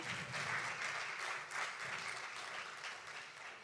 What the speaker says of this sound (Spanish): Ahí está, un fuerte aplauso.